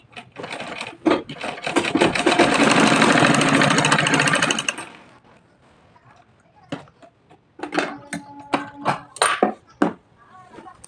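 A sewing machine stitches a folded half-inch hem on a frock in a steady, loud run of about four seconds, then stops, followed by quieter handling noises and short bursts of talking.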